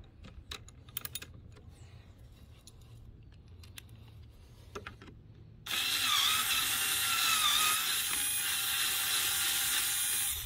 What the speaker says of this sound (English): Set loose the bolts.